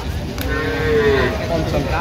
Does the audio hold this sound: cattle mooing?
yes